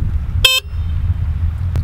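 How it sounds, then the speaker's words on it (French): Horn of a Trottlux vehicle: one short, loud, bright honk near the start, followed by a steady low hum. "Un klaxon, assez fort quand même. On va l'écouter tout de suite."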